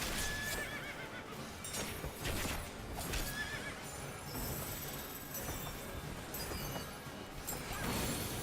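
Horse neighing and whinnying over galloping hoofbeats in Final Fantasy XIV, a dense loud mix of clip-clop and repeated whinnies with clattering game effects.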